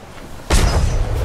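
A ship's cannon fires once in a single loud, close boom that erupts after a quiet lead-in and rumbles on as it fades.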